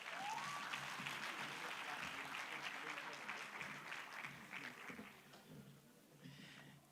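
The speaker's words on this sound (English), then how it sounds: "Let's give him a good round of applause." A conference audience claps in sustained, moderately loud applause that gradually thins out toward the end.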